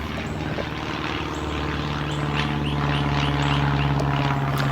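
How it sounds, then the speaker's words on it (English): A propeller airplane flies overhead, a steady, loud droning buzz with a rough engine hum that swells slightly as it passes, with no voices over it. "I apologize about the airplane."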